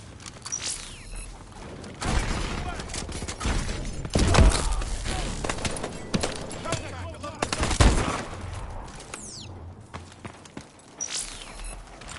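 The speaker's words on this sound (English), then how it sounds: "Suppressing fire!" Suppressing gunfire in Call of Duty: Advanced Warfare, dense rattling bursts and heavy impacts through a loud chaotic firefight, with voices shouting under the din.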